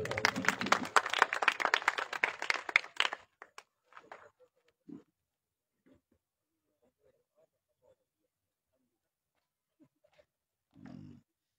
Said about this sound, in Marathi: दिघे साहेबांसाठी टाळ्या होऊ द्या